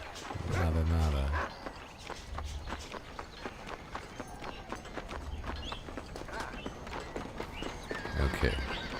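A horse in the Red Dead Redemption video game clip-clops along with a loud snorting neigh at the start and again near the end, hooves steady throughout, with a voice speaking over it.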